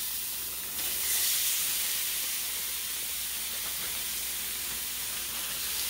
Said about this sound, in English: now we're gonna put the shrimp